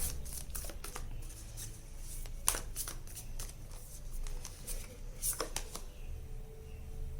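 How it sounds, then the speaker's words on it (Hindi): Oracle cards are shuffled up close, a quiet run of soft riffling flutters and taps in irregular bursts. "let's see what the oracle cards have to say about this scenario"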